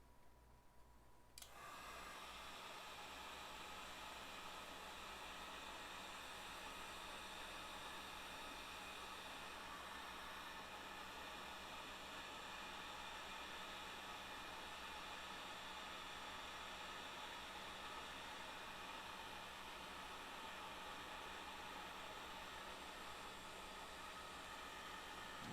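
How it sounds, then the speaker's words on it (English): Hair dryer blowing steadily to shrink heat-shrink tubing on a haunted pumpkin build, switched on abruptly near the start and then roaring as a constant, loud broadband whoosh for the rest. "It'd be hard to hear me over the dryer."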